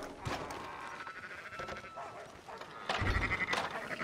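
Sheep bleat in Red Dead Redemption 2, a couple of short nasal calls at close range with some hoof-like clatter and a voice speaking over part of it.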